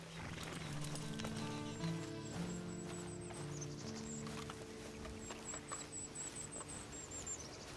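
Horse hooves clip-clop at a steady walking pace in Red Dead Redemption 2 amid background music with chiming tones, fairly quiet and close.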